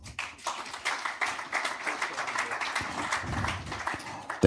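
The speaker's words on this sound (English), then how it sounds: "Let's have that round of applause again." Audience clapping at a digital conference, moderately dense and steady, with some low rumbling sounds underneath toward the end.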